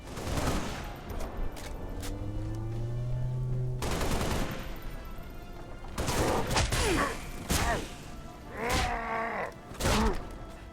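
Halo Reach gunfire and a MAC round firing, heavy booming blasts and bursts of shots with rumbling impacts and whooshing effects, loud and close, coming in separate clusters with short gaps.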